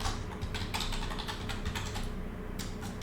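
Rapid keystrokes on a computer keyboard as a title is typed, a quick irregular clatter of close clicks heard alone.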